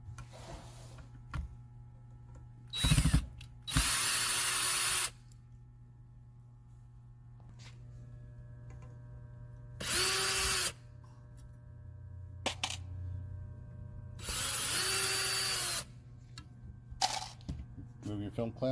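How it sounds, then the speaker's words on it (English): A power drill backs screws out of the film clamps on both sides of the seal bar of a double chamber vacuum sealer. Several separate bursts of whirring run about one to two seconds each, with quiet gaps and a steady background hum between them. "take the film clamps off by removing all these screws"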